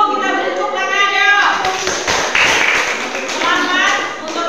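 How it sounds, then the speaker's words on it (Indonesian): Children in an Indonesian primary classroom break into brief clapping for a group, close by and mixed with kids' voices and thumps. "Kelompok 1, kita beri tepuk tangan ya."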